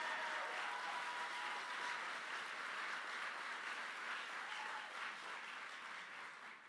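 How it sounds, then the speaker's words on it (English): A large crowd applauding at a JD Vance political rally in Rocky Mount, North Carolina, a dense, even wash of clapping heard from a distance that holds steady and then begins to fade. "he stood up and clapped for that"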